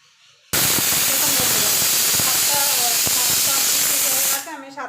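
A pressure cooker of rajma on the stove lets out one loud, sustained hissing whistle of escaping steam, starting abruptly and holding steady for about four seconds before cutting off.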